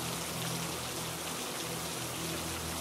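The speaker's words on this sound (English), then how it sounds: "the rain changes from a steady drizzle to a warm downpour" Steady, dense rain falls as a continuous broadband hiss of drops pattering on surfaces, soft and even throughout with no voices.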